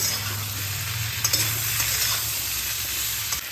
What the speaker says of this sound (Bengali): এগুলো দিয়ে আমি ভালো করে কষিয়ে নেব